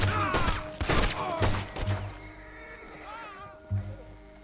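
Gunfire during a standoff in the western video game Red Dead Redemption 2, several loud, close shots in quick succession under voices, then one more isolated blast as the talking continues.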